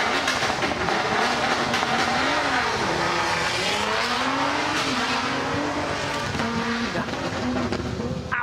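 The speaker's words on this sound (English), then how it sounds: "you can hear the incredible sound of these cars as they leave the line." A Toyota Hilux Dakar rally car engine roars and revs hard as it launches on a forest rally stage, pitch climbing through gear changes, loud and continuous with crowd noise in the background.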